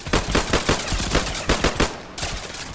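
Rapid automatic gunfire in the Roblox zombie-survival game Michael's Zombies, a steady stream of close, loud shots in quick bursts with a brief gap near the end before firing resumes.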